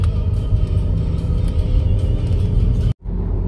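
A car driving on a road in autumnal Norway, heading toward a petrol station, gives a steady low engine rumble and road roar from inside the cabin, continuous and fairly loud, with a brief dropout near the end.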